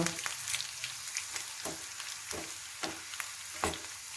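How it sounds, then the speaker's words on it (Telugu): Dried red chillies fry in hot oil for tomato pickle, giving a constant crackling sizzle punctuated by roughly eight sharp scraping stirs at irregular intervals, close up and with no talking. "ఎండుమిరపకాయలు కూడా వేసేసి ఫ్రై చేసుకోవడమే"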